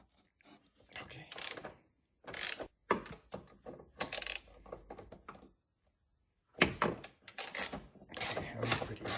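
Ratchet with a 13 mm socket loosens the rear shock nuts on a BMW E46 convertible, giving loud close bursts of rapid clicking in several separate runs with brief pauses between.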